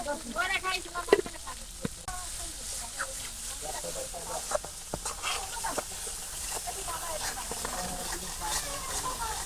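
Cinnamon, cardamom and cloves crackle in hot oil in a pan, a steady close sizzle with scattered sharp pops and spatters, while voices talk nearby in the background.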